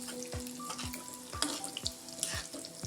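Medium-sized palak pakoras fry in hot oil in a pan with a soft, low sizzle, broken by several separate thuds and clinks from stirring or a utensil at irregular moments, and nobody speaks.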